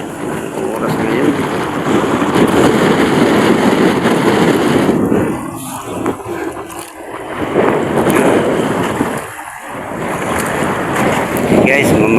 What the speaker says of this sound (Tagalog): mayroong malaking alon